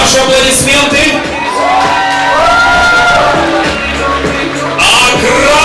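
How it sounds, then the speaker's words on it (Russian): A boxing audience cheers loudly for the blue corner, a dense mass of shouts, whoops and applause that stays close and sustained, with no individual talk standing out. "Ваши аплодисменты."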